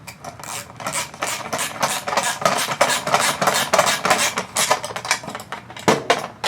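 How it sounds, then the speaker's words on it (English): A 10mm socket wrench ratchets in rapid, loud, rasping clicks, tightening the mount screws on an offset mount for a 2021-2024 Ford Mustang Mach-E, up close and nearly continuous with brief pauses. "take your 10mm socket or wrench, if you have just a wrench, Phillips screwdriver, and just tighten them up"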